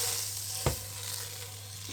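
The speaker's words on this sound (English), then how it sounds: "In goes all my butter. So plenty of butter." Butter sizzles in a hot pan, a steady close hiss, with one brief thump or clink early on and no voices.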